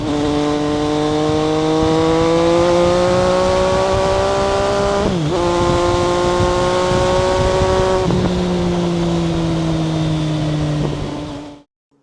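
A 2022 MV Agusta Brutale 800 inline three-cylinder motorcycle engine revs loudly and close up, holding a strong harmonic drone. It dips briefly twice, then climbs again before cutting off sharply at the end.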